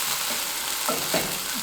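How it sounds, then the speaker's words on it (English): Vegetables sautéing in a pan for a high-protein vegan meal, a steady close sizzle with a couple of brief scraping stirs, no talking. "Saute that around."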